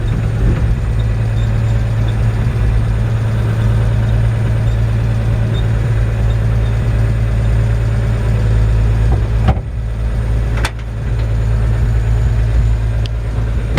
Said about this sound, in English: You just hear that engine purrs like a kitten.